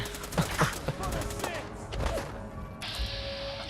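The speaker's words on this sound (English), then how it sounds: "This doctor's throwing grenades and stuff." Gunfire and grenade blasts in a Fallout 4 battle, with a doctor hurling grenades: bursts of rapid shots and crashing impacts through the first half, a player's voice talking over the combat, then a steady mechanical whine near the end.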